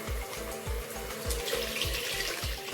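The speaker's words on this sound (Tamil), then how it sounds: "இப்போ இந்த குழம்புக்கு தேவையான தண்ணி எல்லாம் சேர்த்தாச்சுங்க." Water being poured into a fish curry, a faint steady splashing stream with a regular rhythmic gurgle, heard alone without talk.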